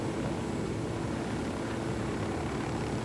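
A helicopter in the video game Ghost Recon Wildlands drones with a steady, even rotor and engine hum at moderate level, unbroken and without speech.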